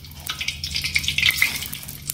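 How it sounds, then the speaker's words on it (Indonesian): An egg and vegetable mixture frying in hot oil, giving a steady crackling sizzle with sputtering bursts, close and fairly loud, with no talk over it. "Minyak udah panas, kemudian kita goreng."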